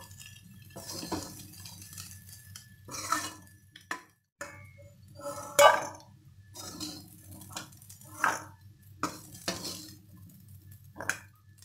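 Cooked black chana being spooned into a serving bowl, heard as a series of close metal scrapes, clinks and taps from a spoon against the pot and bowl, spaced irregularly over quiet background hum.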